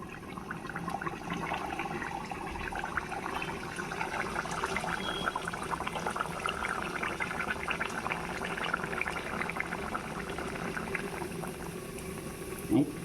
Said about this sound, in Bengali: এইদিকে আমি পুরিগুলো ভাজা নিই